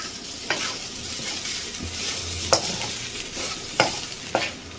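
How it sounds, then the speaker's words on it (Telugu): Cooked rice being stirred into fried peanut masala in a pan, with a spoon scraping and tapping in several sharp strokes over a soft, steady sizzle. "ఈ రైస్ అంతా మంచిగా కలుపుకోవాలండి"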